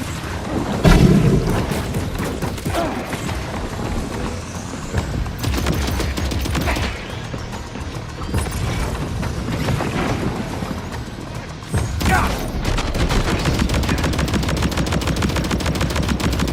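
Gunfire in Death Stranding 2 crackles in dense bursts across the whole stretch, loud and close, with sharp individual shots punctuating steady rapid fire and a heavier boom near the start.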